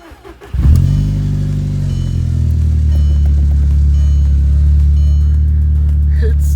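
An Audi TT fitted with a new turbo cranks briefly, then fires and settles into a loud, steady idle with a deep rumble, close by.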